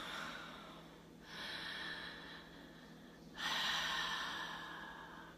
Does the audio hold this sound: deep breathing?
yes